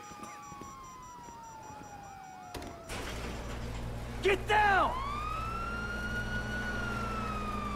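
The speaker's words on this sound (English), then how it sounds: "you hear that? Sirens!" Wailing police sirens in Grand Theft Auto V rise and fall in the distance, then a louder siren sweeps in close amid engine rumble and a shouted voice.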